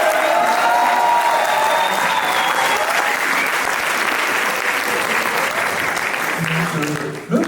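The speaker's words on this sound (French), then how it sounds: "Je voudrais encore un tonnerre d'applaudissements pour Margot." Open-mic stage night audience in Grenoble giving a thunderous round of applause after a poem, dense even clapping sustained throughout, tapering off at the very end.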